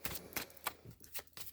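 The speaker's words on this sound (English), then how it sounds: "As I shuffle the cards" Tarot cards being shuffled by hand: a quiet series of brisk riffling bursts in an irregular rhythm, close and faint, with no talking.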